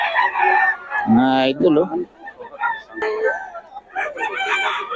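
Young stag roosters at a farm crow in bursts, one loud cock-a-doodle-doo near the middle among other crowing and clucking, while someone speaks briefly over them.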